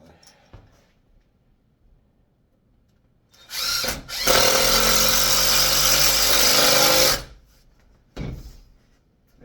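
A power drill driving screws into wood for a laminated beam starts with a short burst, then runs loud and steady for several seconds before stopping, followed by a brief later whir.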